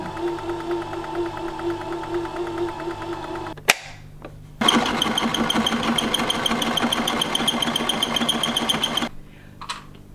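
A home sewing machine stitches upcycled denim jeans in two close, loud bursts, a steady mechanical whir broken by a brief clack and pause, then a faster, busier run that stops abruptly.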